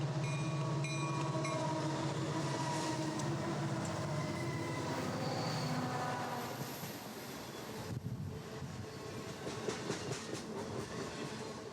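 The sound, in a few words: empty coal train rolling along the railway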